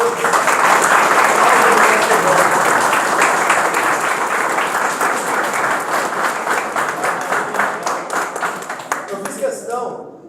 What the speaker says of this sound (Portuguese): vocês deem uma salva de palmas para esse pessoal que está aqui